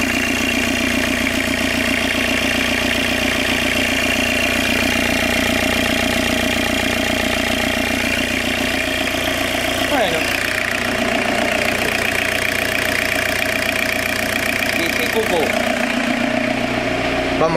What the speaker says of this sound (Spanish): Hay una chapita que hace ruido por ahí.